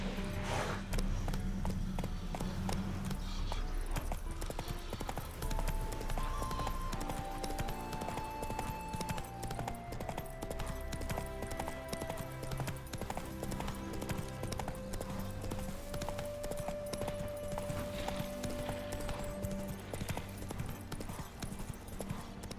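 Horse hooves clip-clopping in the video game The Witcher 3, a steady, continuous trot under game music with sustained tones, moderately loud throughout.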